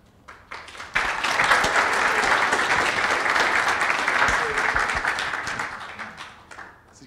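A seminar audience gives the panel speakers a round of applause that starts abruptly after a few scattered claps, holds steady and full, then thins out toward the end.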